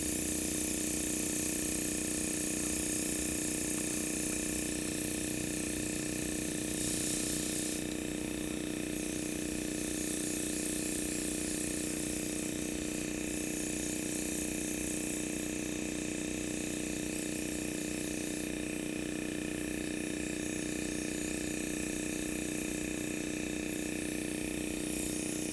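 An airbrush spraying foundation makeup over the face, a steady close hiss with a faint mechanical whine from the compressor, running continuously at a low level.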